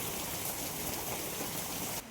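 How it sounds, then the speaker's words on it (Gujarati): Heavy monsoon rain driven by strong wind gives a dense, steady hiss of drops beating on surfaces nearby. It is loud and even and stops sharply at the end. "ફાઇનલી તો વરસાદ ચાલુ થઈ ગયો છે અને વરસાદ બહાટી બોલાવે છે ભાઈ પવન એટલો છે"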